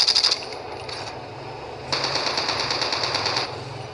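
Rapid automatic gunfire in Call of Duty battle royale on Android: a quick burst at the start, brief gaps, then a longer steady rattling volley, loud and close.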